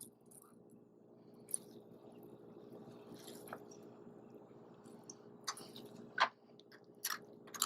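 Grated potato squeezed by hand to wring out its juice, giving soft wet squishes and drips with a few sharper squelches near the end, close and quiet with no talking.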